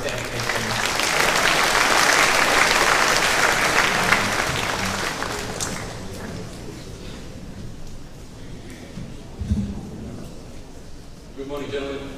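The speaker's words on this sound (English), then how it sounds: "give the Sea Dog Potter a round of applause" An audience at a school debate event claps loudly at first, then the applause thins and fades into scattered clapping and room noise, with a few brief voices near the end.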